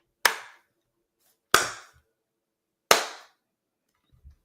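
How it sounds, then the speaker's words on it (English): Three sharp, evenly spaced claps ring out about a second and a half apart, slow and deliberate, with silence between them. "You can slow clap all you want."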